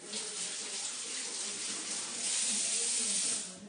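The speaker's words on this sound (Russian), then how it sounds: "Заливаем немножко воды." Water pours through a small filter into a container of oranges for a homemade vitamin drink, a soft, steady running hiss that swells slightly louder in the second half before tapering off.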